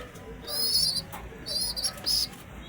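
Young racing pigeon chicks, sixteen days old, give three faint high-pitched squeaky peeps in quick succession over a quiet background.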